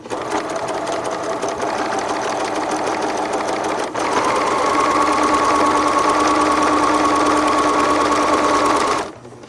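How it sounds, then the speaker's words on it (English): Sewing machine running a regular straight stitch along stretch fabric, a steady close whirring hum that pauses briefly, then carries on evenly for several seconds before stopping. "The first thing I'm going to do is just stitch a line with a regular stitch."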